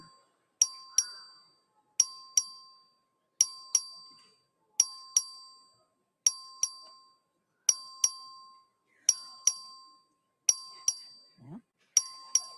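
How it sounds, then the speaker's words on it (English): A voting bell at the Texas Legislature chamber rings in a steady series of bright, clear double dings, repeating about every one and a half seconds and each fading away in a quiet room. "The clerk will ring the bell."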